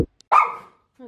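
Dogs bark sharply while waiting for treats at home, one loud bark followed by a fainter yip.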